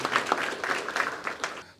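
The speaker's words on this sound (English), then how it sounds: "let's give him applause" Audience at a money-management learning event clapping in applause, a brief burst of dense, fairly close clapping that tapers off at the end.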